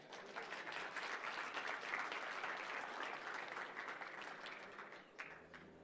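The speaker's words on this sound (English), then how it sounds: "And you may please give them another round of applause." Sustained applause from a seated audience at an African hydrogen energy summit, a dense even wash of many hands clapping that holds steady for several seconds before easing slightly at the end.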